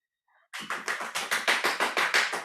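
Audience clapping in slow unison, about a dozen sharp evenly spaced claps that start suddenly after a faint brief sound, close and clear with no voices.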